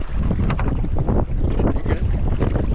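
Strong wind buffets the microphone outdoors at a misty wilderness campsite, a loud, gusty rumble with no pauses and no talking.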